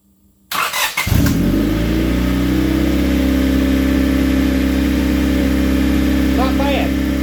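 A junk car motor cranks and then catches, settling into a loud, steady run with a strong low drone for several seconds. A voice speaks briefly near the end.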